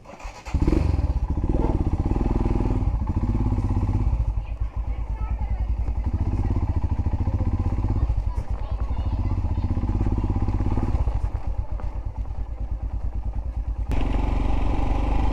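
A motorcycle on a hill road trip to Kolli Hills rides steadily with a loud, continuous engine drone, with brief clattering and thumps as it rolls along and a short pause in the engine noise partway through.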